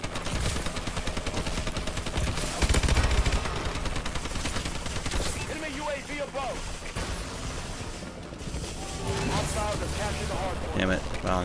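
Gunfire in Call of Duty Advanced Warfare during a Hardpoint multiplayer match: dense, continuous shooting and impacts with a louder burst partway through, mixed under steady conversation from players.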